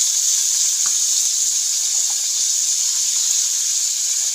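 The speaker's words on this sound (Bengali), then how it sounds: "প্রথমে ফুলকপিগুলো তেলের উপর দিয়ে দিলাম ফুলকপিগুলো দিয়ে একটু ভাজা ভাজা হয়ে যাবে" Cauliflower and winter vegetables frying in oil for veg chowmein: constant loud, close hiss of sizzling oil with faint occasional pops, steady throughout with no talk.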